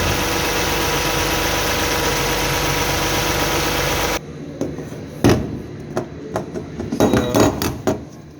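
A Toyota Highlander 3.5 V6 engine runs loudly and steadily with a noisy drive belt for about four seconds, then stops abruptly, followed by quieter scattered metallic clanks and knocks.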